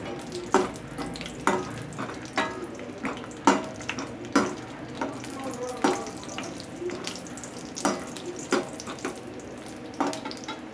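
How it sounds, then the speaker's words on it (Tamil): Broken cashews fry in hot ghee for mango halwa, a steady soft sizzle cut by regular spoon scrapes and clinks against the pan about once a second, close by, with no talking. "முந்திரியை நல்லா உடச்சி நெய்யில் ஃப்ரை பண்ணிக்கோங்க"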